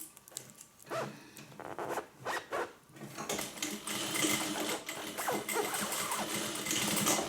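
A sewing machine stitches around a corner of fabric for a hippie van project, opening with a few short separate bursts of stitching, then running continuously in a steady, close mechanical whir.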